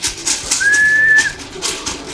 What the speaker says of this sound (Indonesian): ada satu lagi burung saya